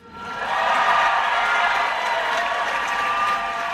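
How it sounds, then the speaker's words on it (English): A figure skating arena crowd cheers and applauds as a two-time U.S. champion returns to the ice. The applause swells quickly into a loud, sustained roar of clapping and cheering with no talking over it. "you can hear the crowd welcoming Alysa Liu to the ice"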